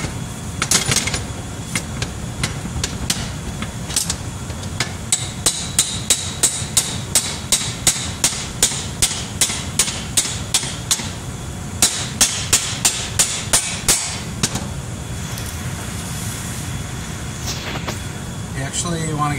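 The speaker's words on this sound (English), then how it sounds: "right now I am tapping it in that hard" A hammer taps a greased pin into an IH seat in rapid, evenly spaced sharp metallic strikes, close and loud, with brief pauses between bursts and some speech in the background.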